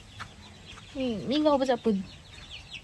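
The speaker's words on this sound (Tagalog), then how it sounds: "mga manok" A chicken gives a short run of clucks and warbling calls, fairly close, while a voice speaks faintly nearby.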